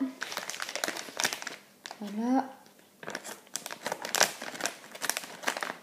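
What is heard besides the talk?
cutting open a candy packet with scissors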